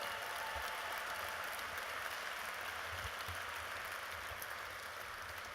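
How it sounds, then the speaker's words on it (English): Audience applause at an adoption gala, a dense steady wash of many hands clapping in a large room, continuous and even, slowly easing toward the end. "Let's give them all a round of applause"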